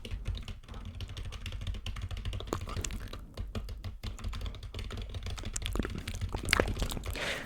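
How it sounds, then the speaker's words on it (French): Close ASMR typing on a computer keyboard, a steady run of quick, crisp key clicks with irregular rhythm and occasional louder strikes, heard alone without any talking. "J'en ai d'autres comme taper sur un clavier, j'aime bien."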